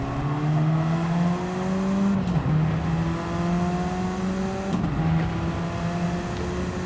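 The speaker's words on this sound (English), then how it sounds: "Still applying a decent amount of pressure to the rear bumper of Javen Tucker now as we take a look back at the front end of Slinky's car" Radical race cars lap the Tsukuba circuit in a racing video game, a loud, steady, high engine whine running throughout and dipping briefly twice as gears change.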